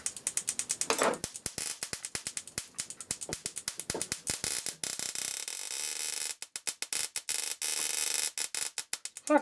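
A small ignition coil pack driver fires rapid trains of sharp, crackling sparks that start and stop in bursts, with steadier buzzing stretches between, loud and close, with no voices.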